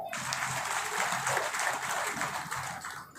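Steady, sustained applause from a gathered audience at a soldiers' honour ceremony held by the district soldier welfare board in Bulandshahr, dense and even throughout with no talk over it.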